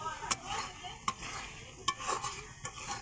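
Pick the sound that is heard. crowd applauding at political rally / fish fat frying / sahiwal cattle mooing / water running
fish fat frying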